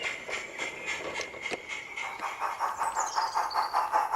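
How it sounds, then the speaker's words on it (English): A small narrow-gauge Southwold Manning Wardle steam locomotive pulls away with rhythmic chuffs and a high wheel squeal, getting steadily louder as it moves off with rattling wagons. "Southwold Manning Wardle Loco No. 4 Buckley has finished shunting operations for the pickup goods and is departing"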